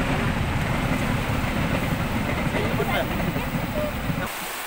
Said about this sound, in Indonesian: Sambil melihat kereta lewat.